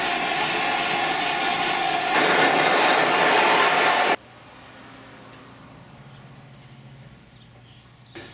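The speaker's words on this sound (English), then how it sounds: "So I'll put it in the vise, heat it up with a torch," A torch heats a bent brake pedal from a Honda Trail 90 clamped in a vise. A loud, steady roaring hiss swells for about four seconds, then cuts to a much quieter, lingering hiss.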